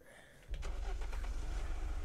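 Car engine in the game Unturned cranks and catches, then settles into a loud, steady idle rumble close by, with no talk over it.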